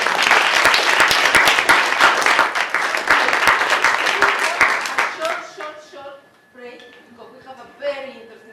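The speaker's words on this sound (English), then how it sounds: "Join me in a round of applause." Applause for a speaker at a UN event: loud, dense clapping fills the first five seconds, then thins out and fades as voices begin talking over the dying claps.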